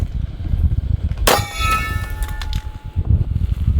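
A 1911 pistol fires a .45 ACP round into a steel silhouette target, a single sharp gunshot with a bright ringing clang off the steel that decays over about two seconds, over low outdoor rumble.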